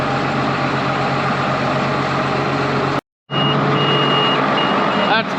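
A tall semi truck backs up toward a grain cart with its engine idling loudly and close, while a high, evenly spaced backup beeper sounds repeatedly over the rumble.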